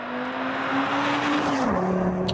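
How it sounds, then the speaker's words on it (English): An Audi RS3 (8Y) engine with a custom titanium exhaust revs hard with a raspy, resonant exhaust note, pitch climbing then dropping as it shifts, loud and close. "He also has a titanium custom exhaust that someone built."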